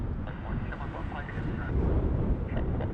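An Airbus A320 airliner lands at Heathrow Airport, its broad, rumbling engine roar steady and distant, under close commentary.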